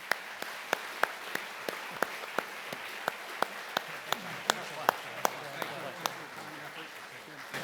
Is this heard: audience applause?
yes